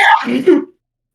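A single sharp sneeze, close and loud, bursting out then trailing off into silence.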